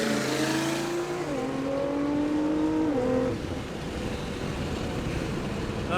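A tuned Nissan GTR accelerates hard from close range, its engine note climbing through stepped gear changes before settling into a loud, steady roar with rushing wind and road noise.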